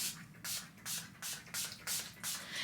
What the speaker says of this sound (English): everything that comes in spray bottles, it's really hard to not spray a lot